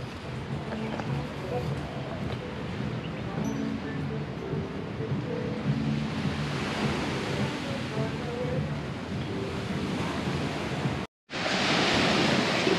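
Steady broadband rush of sea waves and surf at Gili Trawangan, Indonesia, continuous and fairly loud, with low rumbling and a brief dropout near the end.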